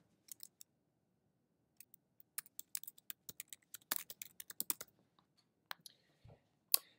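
Quiet, close clicks of a computer keyboard as a search is typed, irregular bursts of keystrokes with short pauses, heard alone with no talking.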